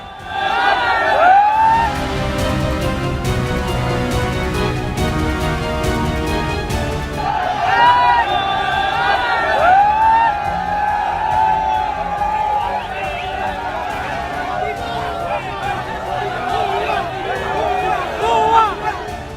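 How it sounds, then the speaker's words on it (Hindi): A frenzied crowd looting Sheikh Hasina's house in Bangladesh, a loud, constant roar of shouting and babble with whistles and occasional sharp bangs, a commentator's voice speaking over the din. "देखिए इस भीड़ का पागलपन।"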